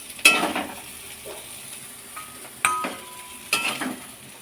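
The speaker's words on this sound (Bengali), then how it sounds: "চিংড়ি মাছটা ভাজা হয়ে গেছে মোটামুটি।" Prawns frying in a pan as a low, quiet sizzle, punctuated by several sharp clinks and scrapes of a utensil against the pan at irregular intervals, with no talking.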